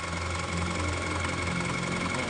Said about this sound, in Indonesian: mesin ini di bingkem intake manifoldnya dia tidak mau mati